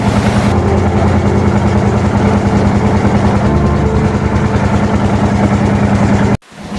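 A motorboat operated by the army cruises across Kaptai Lake toward Bilaichari, its engine droning loud and steady with a deep, constant low rumble before cutting off abruptly near the end.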